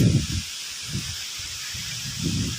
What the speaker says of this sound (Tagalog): Hanging habagat.